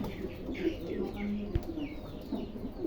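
Pigeons coo softly in a fancy pigeon farm's coops, a few low burbling calls with faint chirps around, one brief knock partway through.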